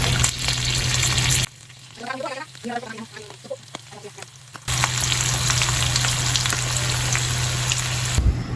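Large prawns coated for tempura frying in hot oil, a dense close sizzle that cuts out for a few seconds while someone talks, then returns loud and steady.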